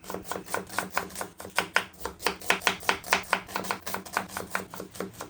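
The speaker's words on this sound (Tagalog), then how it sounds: "Maghiwa na tayo dito ng ating sibuyas." A knife chops onion finely on a cutting board, producing rapid, evenly spaced crisp taps that continue close and loud throughout, with no talking.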